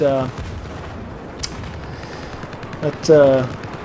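Bursts of gunfire crack out during a video game battle, a short rattle near the start and another burst late, with a sharp isolated shot between them over a low rumbling bed.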